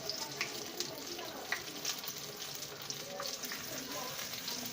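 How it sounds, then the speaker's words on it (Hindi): Chicken strips for KFC-style extra crispy tenders fry in hot oil with a steady, close sizzle and scattered small pops, while a voice is faintly present in the background. "इसको अच्छे तरीके से हम फ्राई होने देंगे"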